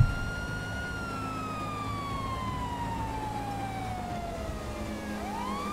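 A police car siren wails in the video game GTA 5 with the LSPDFR police mod, a loud, steady, sliding tone that slowly falls in pitch and then sweeps back up near the end, over a low engine rumble.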